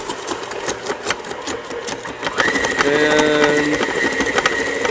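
Kitchen mixer churning ice cream as the mixture stiffens, a steady mechanical whir with a rising strained tone partway through and a brief word spoken near the start.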